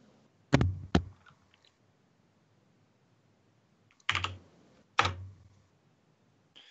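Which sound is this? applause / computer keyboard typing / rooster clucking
computer keyboard typing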